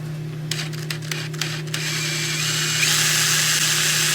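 Easy out driven by a power tool to extract a soft stainless set screw: a few sharp clicks, then a steady motor whine that builds slightly, close up with no talking.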